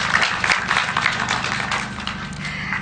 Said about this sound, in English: Please let us applaud our teachers.